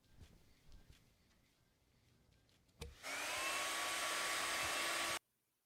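A blow dryer switches on abruptly after some faint shuffling and knocking, roaring loudly and steadily for about two seconds before cutting off sharply.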